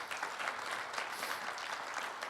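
Sustained audience applause at a Veteran's Day gathering, a dense steady patter of many hands clapping throughout at moderate loudness, with no talking over it.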